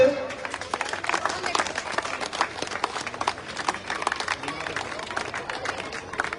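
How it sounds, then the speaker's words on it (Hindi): A village crowd gathered at a welcome ceremony claps for an arriving guest, steady dense applause continuing throughout under a general hubbub. "तालियों से स्वागत।"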